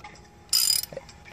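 A ratchet tightens a 19 millimeter bolt on a steering hub while a quick release steering wheel is installed, giving one short, loud burst of clicking that ends with a softer knock.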